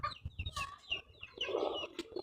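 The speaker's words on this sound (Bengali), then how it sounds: "এখানে কতগুলি মুরগি আছে আমাদের" Chickens at a home garden farmyard cluck and chatter close by in quick, uneven bursts, with a brief rougher squawk partway through and no talking.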